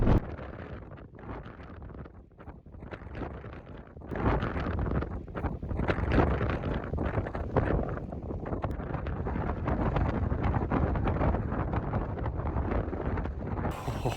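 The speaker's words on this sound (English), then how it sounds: "It is quite windy tonight, I think." Strong wind on a mountain summit at sunset buffets close to the microphone in gusty roaring bursts, quieter at first and then building into a sustained rush.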